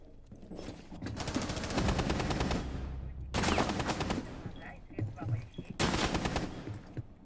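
Rainbow Six Siege gunfire rattles in three loud automatic bursts, each lasting a second or more and separated by short pauses, with faint background sounds between them.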